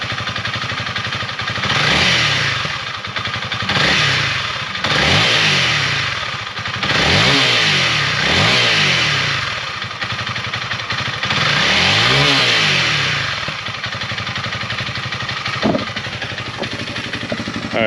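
Close, loud revving of a Honda CRF300L motorcycle engine, with repeated throttle blips rising and falling over a steady idle.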